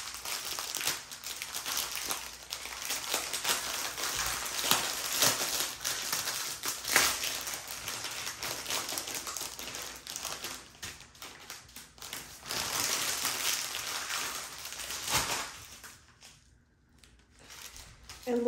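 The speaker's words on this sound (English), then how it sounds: "Sorry for the crinkling." Plastic packaging bags holding rhinestones crinkle and crush almost continuously as they are handled, fading to near silence briefly near the end.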